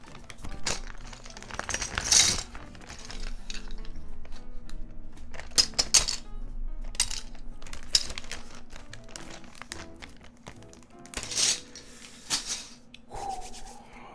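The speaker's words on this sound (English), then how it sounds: "time to put these keycaps away." Plastic keycaps from a custom mechanical keyboard being handled and put away, with scattered bursts of rubbing, rattling and clicking and quieter gaps between them, close by.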